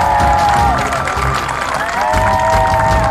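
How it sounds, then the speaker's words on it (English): A MasterChef studio audience applauds and cheers for the red and blue teams, with loud sustained clapping and whoops, while music swells over the crowd noise. "please give a huge round of applause for both our red team and our blue team"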